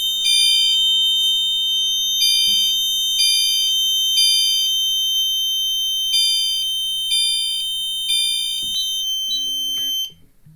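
A fire alarm sounds in a steady repeating pattern of shrill electronic tones, loud and close, then cuts off near the end.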